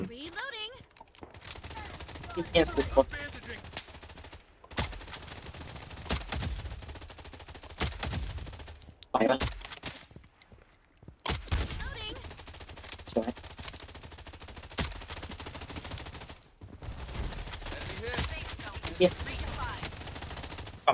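Gunfire rings out in the shooter game Blood Strike, with repeated bursts of automatic fire and single shots coming in clusters across a long stretch, loud and close, while players talk excitedly over the shooting.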